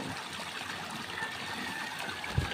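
Water draining out of a silver water tank during tank cleaning, a steady, quiet trickling and streaming flow that continues evenly, with a small knock near the end.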